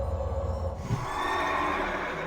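A horse mount in World of Warcraft gives a brief neigh partway through, heard over steady game ambience and music, moderately loud with no talking.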